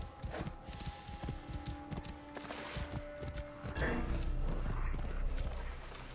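Horse hooves clop in Assassin's Creed Origins on PS4, a quick uneven run of hoofbeats at moderate volume over game ambience, giving way to a louder rushing wash near the end.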